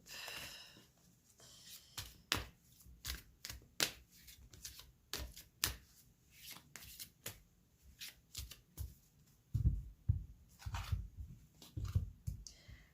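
An angel oracle deck of cards is shuffled by hand in a quiet room. It makes rapid, uneven riffling and slapping clicks that continue close and clear for the whole stretch.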